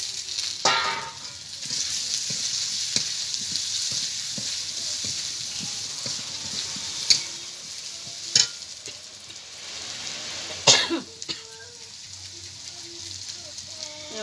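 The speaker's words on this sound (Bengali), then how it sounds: "মশলাটা কষানো হয়ে গেছে, এবার ভেজে রাখা আলু দিয়ে দেবো।" Fried potatoes stirred into a cooked-down spice masala with dry chilli powder, a steady close sizzle with scraping stirs and a few sharper clanks of the spoon against the pan.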